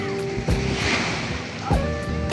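Ocean waves wash and churn nearby at a beach in Lian, Batangas, with rushing water and gusty wind noise, a steady loud surf sound without speech.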